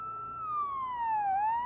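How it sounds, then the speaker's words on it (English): A single siren wails steadily, its pitch sliding slowly downward then rising again, loud and fairly close with a low rumble beneath. "then it just cuts to black with the sirens going"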